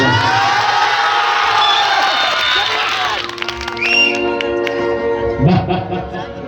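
A crowd at a live stage show by a Bhojpuri folk singer cheers loudly and continuously at first, then thins into scattered shouts and whoops as music and a voice carry on over it.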